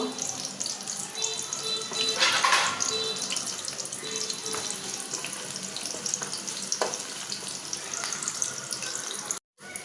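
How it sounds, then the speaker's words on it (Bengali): Oil sizzles and crackles steadily as onions fry in a pan, with occasional stirring clatters and a brief louder burst early on. "পেঁয়াজটা যে সুন্দরভাবে ভাজা হইতেছে"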